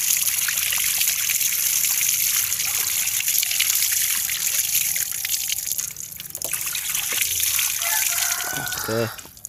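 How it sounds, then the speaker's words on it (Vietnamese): Running water trickles and splashes steadily throughout, a broad hiss with brief clinks near the end as the flow winds down. "Rồi thì mình sẽ xả nước thôi."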